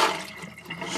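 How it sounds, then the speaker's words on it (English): Rusty fishing hooks are swished around in a container of water, a short close sloshing splash that fades quickly, with no voices. "Give them a good old shake around."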